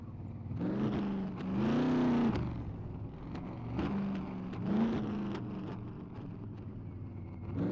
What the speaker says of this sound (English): He heard the car